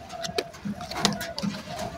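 A Jabra Pankhi pigeon coos in a few soft, low murmuring phrases spread across a brief stretch, fairly close, with faint background noise and no talking.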